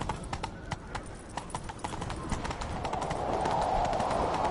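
Horse hooves gallop in the video game The Witcher 3, a fast steady clip-clop that builds under rising rushing noise as a rider gives chase.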